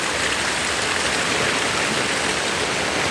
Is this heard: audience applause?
no